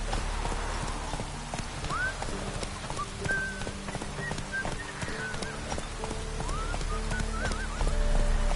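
A horse trots in The Witcher 3: Wild Hunt, its hooves clip-clopping in a steady, fairly close rhythm over game ambience, with a faint whinny and brief bird-like chirps.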